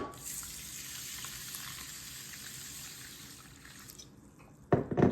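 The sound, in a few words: washing ragi and brown rice in water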